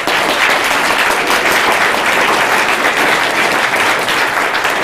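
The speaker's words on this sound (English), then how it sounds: "A big round of applause for Joe." A conference audience at a game developer meetup panel gives a sustained, loud round of applause, dense clapping that holds steady for several seconds without speech.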